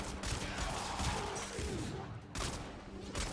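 Quick bursts of gunfire in Warframe from Incarnon weapons firing headshots, a few short cracking volleys at moderate-to-low volume with brief gaps between them.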